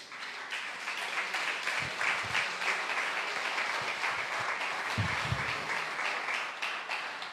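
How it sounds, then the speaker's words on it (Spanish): A church congregation applauding during a sermon, a long, even wash of clapping from many people heard at a modest level, with a few low thumps breaking through midway. "Un aplauso al Señor"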